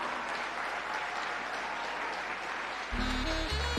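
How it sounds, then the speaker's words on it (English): Steady applause from a gala audience honouring 25 tourism awardees at a hotel resort anniversary celebration, dense and continuous throughout, with a low hum and some louder sounds entering near the end. "Clap them, man. Clap them louder."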